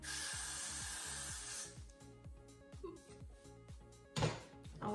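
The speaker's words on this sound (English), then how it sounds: "so I'm gonna go in with the Gatsby spray." Gatsby hair spray sprayed onto a wig gives a steady, close hiss for nearly two seconds, followed by softer rubbing and handling sounds and a brief rustle near the end.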